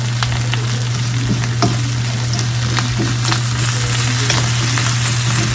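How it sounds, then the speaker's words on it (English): Fatty meat fries in a pan with a steady, dense sizzle and crackle, punctuated by small pops and the occasional scrape of stirring, close and continuous with no voices. "you just want to keep going like that until the meat is cooked to your liking"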